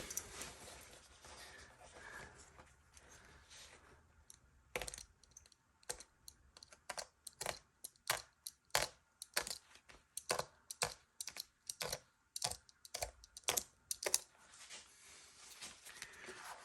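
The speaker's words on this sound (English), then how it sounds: "And let's start seam ripping." Seam ripper cutting through the seams of chair upholstery, a long run of small, sharp snipping clicks in an irregular rhythm, close and fairly quiet, with no talk.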